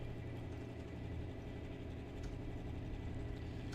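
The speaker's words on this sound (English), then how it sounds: "Adam Beauchamp making all the noise here." A dragster idles steadily at close range: an American Chassis car with an RPD Engines motor at a drag race. The rumble is loud, continuous and low, with no voices over it.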